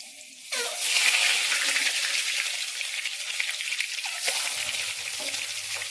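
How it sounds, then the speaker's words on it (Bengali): Eggs slid one at a time into hot oil in a home kitchen set up a steady, loud sizzle, with a small clink and spatter partway through and no talk over the crackle. "এই যে এবার তেলের মধ্যে এক এক করে ডিম ছেড়ে দিলাম।"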